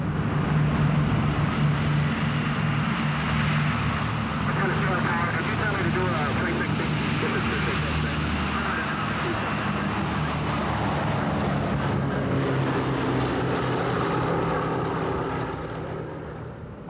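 A Boeing B-17G Flying Fortress from 1945 drones with the steady roar of its propeller engines at an air show, loud and continuous before fading slightly at the end, with a voice speaking over it.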